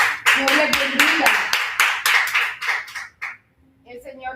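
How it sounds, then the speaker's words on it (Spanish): A church congregation claps loudly in a quick, even rhythm for about three seconds, with a voice and tonal sounds mixed in before the clapping stops. "Demos un fuerte aplauso a Cristo Jesús en esta mañana"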